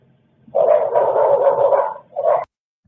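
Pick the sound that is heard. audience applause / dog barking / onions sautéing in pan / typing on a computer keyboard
dog barking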